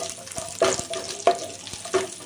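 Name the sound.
raisins frying in ghee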